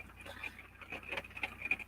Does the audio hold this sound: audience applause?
no